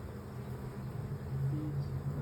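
Honeybees buzz around hive frames in a bee garden, a steady low droning hum heard fairly close and fairly quiet.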